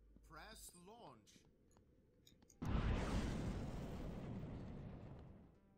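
Anti-ballistic missile launch in the video game Boris The Rocket: a sudden loud, broad roaring blast that sustains and slowly fades over several seconds, following brief game tones and a short spoken line.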